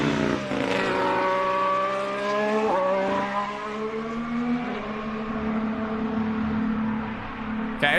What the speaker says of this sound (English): Good comparison of the 2025 car sound and 2026 sound.